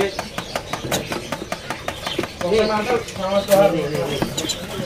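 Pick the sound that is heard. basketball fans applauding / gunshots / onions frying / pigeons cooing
pigeons cooing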